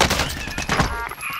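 Rapid gunfire from an online battle-royale shooter game, a dense burst of overlapping shots lasting just over a second, loud and close.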